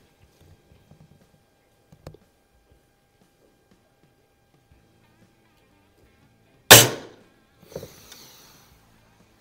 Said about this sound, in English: Most of the noise you're hearing is the pellet hitting the board downrange.